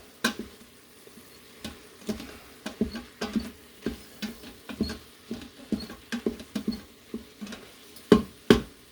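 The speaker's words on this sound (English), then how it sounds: "Let's give it a good stir here." A spoon stirs black-eyed peas and collard greens in a pressure cooker pot with wet, scraping pats in an uneven rhythm. The strokes are close and clear, and there is no talk.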